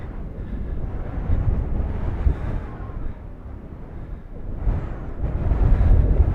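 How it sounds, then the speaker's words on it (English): Stiff desert wind buffets the microphone at Dante's View in Death Valley, a continuous low rumbling roar that swells louder in gusts toward the end, with no other clear sounds. "Fighting some stiff winds right now"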